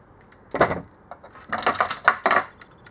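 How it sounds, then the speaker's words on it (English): Small metallic snips and clinks of wire being cut for a wire-wrapped polymer clay pendant, close and fairly quiet, in a few irregular bursts. "And here I'm just gonna cut this"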